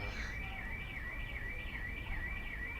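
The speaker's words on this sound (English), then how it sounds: "Sounds like a car alarm somewhere." A car alarm wails somewhere near a cricket ground during a women's Rachel Heyhoe Flint Trophy match, a steady warbling siren tone, distant and faint over a constant low background hum.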